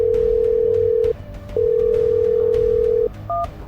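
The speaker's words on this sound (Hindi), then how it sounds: "इसीलिए उसने तुरंत ही रंजन को फोन घुमा दिया।" A telephone tone sounds loud and steady, breaks off briefly, resumes for another long stretch, then gives way to a short two-tone beep as a number is dialed.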